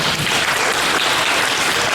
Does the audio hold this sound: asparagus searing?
no